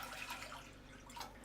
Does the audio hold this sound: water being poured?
yes